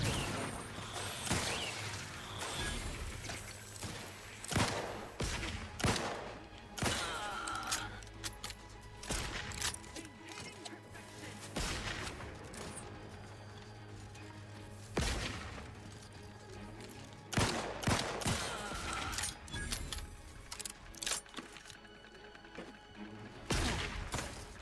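Gunfire in the video game The Outer Worlds 2 crackles in dense, ragged bursts and single sharp shots, quiet and continuous throughout with clinking debris mixed in.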